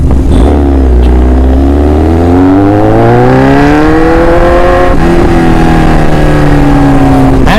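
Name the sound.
Kawasaki Z900 motorcycle engine while riding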